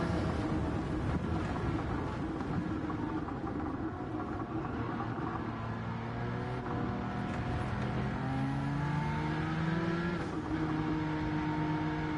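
A car engine drones steadily in a PlayStation driving game, its pitch rising and falling as it revs and shifts, loud and continuous throughout with no talking.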